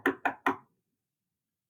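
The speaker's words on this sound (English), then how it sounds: "Toad knocked at the door." Three quick, evenly spaced knocks on a door, close and distinct, followed by silence.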